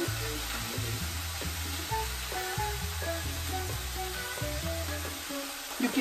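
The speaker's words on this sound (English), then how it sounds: "You can hear the sizzle, right?" Pork for a Cuban sandwich frying in a pan, a continuous close crackling sizzle with repeated scraping stirs over it, steady throughout.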